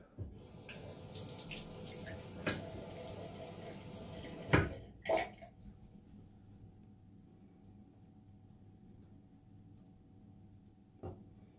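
Water runs from a tap to wet a razor and alum block during a shave, a soft continuous splashing flow with a few knocks, then quiet with a faint click at the end.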